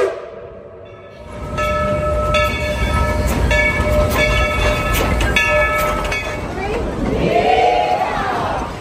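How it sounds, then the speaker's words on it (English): An amusement park train at Dollywood rumbles and clatters steadily nearby, with tonal horn-like whistles and squealing wheels rising toward the end over crowd noise. "I can hear the train coming."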